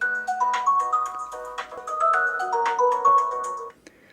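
A Blackview Active 12 Pro rugged tablet plays its phone ringtone, a bright, close melodic tune of stepped tones that runs for a few seconds, then cuts off.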